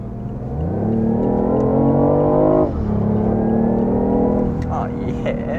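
A BMW i8 accelerating hard, its engine note climbing steadily in pitch, easing off briefly, then pulling upward again, loud and close, with an occupant speaking over it.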